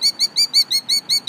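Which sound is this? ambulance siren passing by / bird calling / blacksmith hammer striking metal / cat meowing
bird calling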